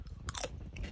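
Close, crisp crunching bites into chips baked for hours in banana leaves in a self-made underground oven, a few sharp crunches in about a second with no talking.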